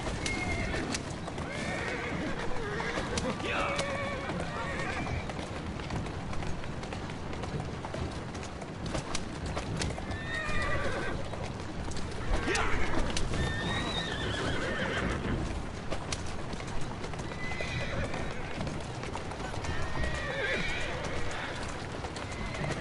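A horse in Assassin's Creed Syndicate gallops with steady clip-clop hoofbeats and repeated whinnies and neighs over a continuous busy game soundscape, with occasional speech in the mix.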